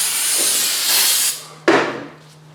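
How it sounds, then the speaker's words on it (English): A loud, steady hiss of aerosol carburetor cleaner spray runs for over a second, stops briefly, then bursts again and tapers off, sprayed on brake mating surfaces of a 2009–2018 Ram 1500. "we need to grab carburetor spray, available at any auto parts store, and we need to clean the brake mating surfaces"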